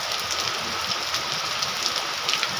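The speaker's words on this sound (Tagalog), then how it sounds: "Ito ulan, kaninang madaling araw pa umuulan hanggang ngayon." Rain pours steadily during a typhoon in a mountain area, making a dense, even hiss of drops on surfaces with a faint patter near the listener. No voices are heard.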